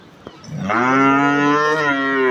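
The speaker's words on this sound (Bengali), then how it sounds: "গরুটা দেখেন" A big Holstein Friesian cow in a shed gives one long, loud moo close by. It follows a small click and holds steady for nearly two seconds, with no talking.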